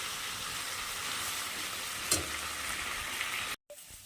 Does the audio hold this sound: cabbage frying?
yes